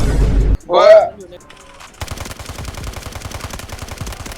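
A short loud burst opens a shooter video game scene, then a brief vocal sound and a quiet lull, before steady rapid automatic gunfire rattles on at moderate volume to the end.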